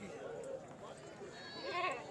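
A goat at the Talagang livestock market gives a brief, faint bleat near the end, set against quiet background chatter and crowd murmur.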